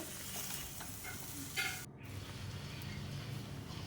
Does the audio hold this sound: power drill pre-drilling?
no